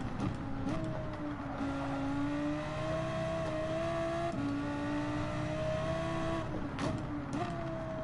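Race car engine in Gran Turismo 7 at the Nurburgring, a loud steady high-revving drone with pitch shifts at gear changes, close and continuous, no talk.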